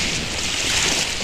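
Ocean waves wash against a beach shore in a steady, loud hiss of surf mixed with wind buffeting the microphone, with no voices.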